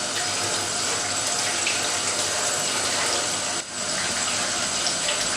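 A pineapple is rinsed under a running kitchen tap, giving a steady, close rush of flowing water that barely changes except for a brief dip partway through.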